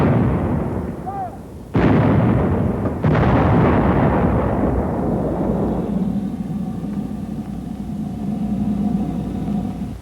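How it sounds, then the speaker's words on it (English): A howitzer fires high explosive shells in two booming blasts a second or so apart, each with a long rolling rumble that fades into low ambient noise. "Here are the 2 whoppers the howitzer pounds out."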